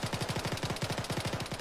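Automatic gunfire in the video game Arma 3, a rapid, even burst of roughly twenty shots in under two seconds, loud and sustained without a break, with no talking.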